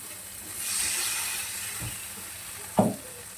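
Water poured into frying fish curry masala with ridge gourd, setting off a soft hissing sizzle that swells and fades, followed by a sharper splash and brief spatter.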